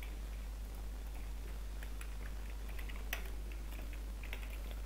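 Typing on a computer keyboard while entering sign-up details on a website, a faint, steady patter of soft key clicks with a few sharper taps, heard alone over a constant low hum.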